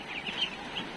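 Grown domestic ducks and itik call out in a farmyard pen, a few faint, short quacks rising over a low background hum.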